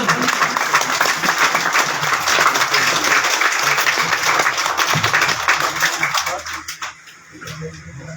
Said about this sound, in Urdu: تالیاں بھائی